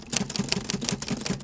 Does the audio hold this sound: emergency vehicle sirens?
no